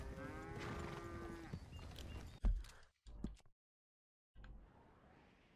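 Cattle mooing during a herd drive in Red Dead Redemption 2, a long drawn-out low moo up close followed by hoof clops and brief thuds, then a stretch of silence and faint ambience.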